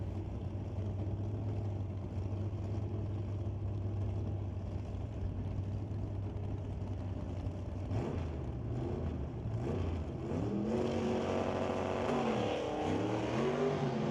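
Drag race cars at the starting line, a 1968 Camaro against a Dodge Dart with a 440 Mopar engine, a steady loud engine drone that swells with rising, sweeping revs and acceleration in the last few seconds, with no talk.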